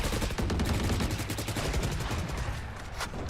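Rapid bursts of gunfire in the video game Valorant crackle almost continuously, sharp repeated shots like automatic weapons in a distant firefight.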